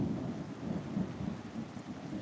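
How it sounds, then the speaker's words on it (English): Heavy rain falls on a roof in a steady, dense hiss while thunder rumbles low and continuous beneath it, with no voices. "I'm starting to get rained on, despite being under the roof"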